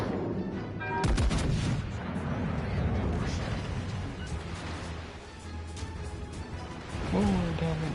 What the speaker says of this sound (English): I want these guns to start firing on her